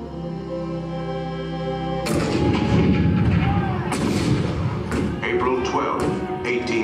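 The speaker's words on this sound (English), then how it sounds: "The cannons spoke for war." Cannon fire depicting the 1861 bombardment of Fort Sumter in a Disney attraction show, a sudden loud blast after a quiet musical opening followed by repeated heavy booming shots and rumbling reverberation under narration.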